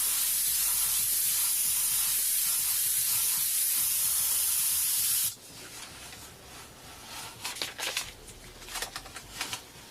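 An airbrush sprays paint in a wide pass: a steady, loud, close hiss for about five seconds, then cut off, followed by quieter intermittent spray bursts and faint handling noise.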